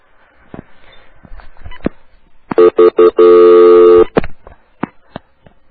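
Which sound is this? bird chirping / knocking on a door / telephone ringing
telephone ringing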